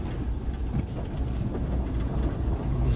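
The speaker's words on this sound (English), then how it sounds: "There's a big vehicle that's coming behind us, so we are going to let it pass." A big vehicle passes from behind on a night road through tiger territory, producing a loud, steady, heavy rumble that holds throughout without any speech.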